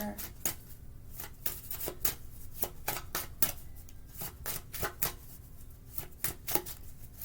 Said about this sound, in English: I'm going to pull some advice cards here